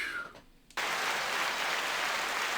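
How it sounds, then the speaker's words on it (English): A brief tone and quiet gap give way to a sudden burst of dense, steady applause that carries on evenly to the end, fairly loud and close. "Pardon why I stand up and applaud, Jim."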